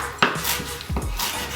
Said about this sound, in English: we're going to move on to chopping up the cilantro